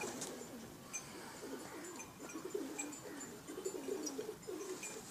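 Pakistani pigeons coo softly in repeated low, throaty bursts, with faint chirps and soft background noise.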